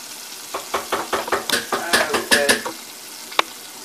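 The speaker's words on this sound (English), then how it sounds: "a long video of me frying up the rest of the shrimp" Shrimp frying in a pan for a po' boy sandwich: a close, crackling sizzle broken by a rapid run of stirring and scraping strokes, then a single sharp utensil knock near the end.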